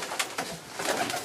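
Pigeons in a breeding loft cooing in soft, repeated bursts, close by and fairly loud, with no talk over them.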